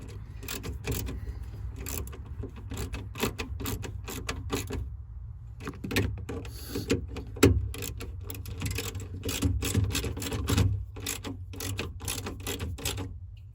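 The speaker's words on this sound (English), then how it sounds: "So we got our two bolts lined up, and now we're just going to tighten them down." Mounting bolts for an aftermarket door speaker being tightened in a 2002-2007 Jeep Liberty, a steady series of quick, faint clicking ratchet strokes close by over a low background hum.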